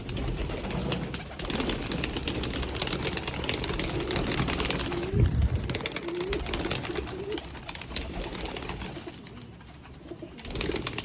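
Flock of pet pigeons in a home loft cooing continuously at close range, a dense bed of low rolling coos with faint rustling and pecking-like ticks, easing slightly near the end.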